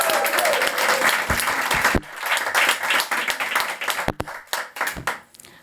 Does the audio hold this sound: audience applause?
yes